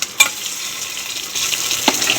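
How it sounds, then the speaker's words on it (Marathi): Potato fries with cumin and curry leaves in hot oil, a continuous close sizzle with a couple of brief utensil taps at the start and near the end. "जिरे, कढीपत्ता, त्यातच आपण बटाटा घालून घेऊ"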